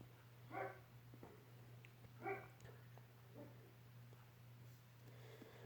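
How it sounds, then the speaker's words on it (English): Dog barking in a house, a few faint, short, muffled barks spaced a couple of seconds apart over a low steady hum. "Sorry about the dog barking."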